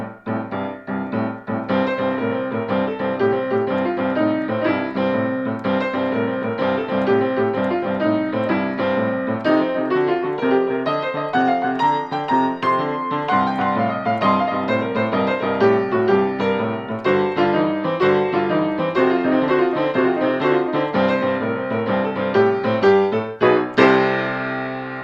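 Piano playing a lively blues boogie-woogie 12-bar shuffle, a rolling left-hand bass under right-hand chords and licks, loud and continuous throughout, with no talking.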